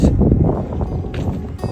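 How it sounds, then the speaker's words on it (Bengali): Strong wind blowing in open village countryside, buffeting the microphone with loud low rumbling gusts for a short stretch. "অনেক বাতাস"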